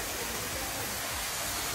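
Continuous rushing water at Daranak Falls in the Philippines forms a loud, steady, hissing roar with no breaks.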